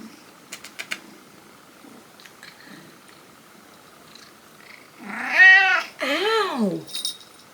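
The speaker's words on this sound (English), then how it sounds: "This is my cat, Bunny" A pet cat gives two drawn-out meows in quick succession near the end, loud and close, after a stretch of faint rustling and small taps in a quiet room.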